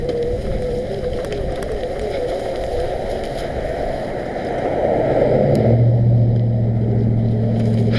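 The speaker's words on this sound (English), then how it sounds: "It's so effortless to climb these hills and everything with the motor operated setup going on." Steady, loud wind rush and rolling drone from an Ancheer electric mountain bike riding off-road on throttle, with a low motor hum rising toward the end, no voices.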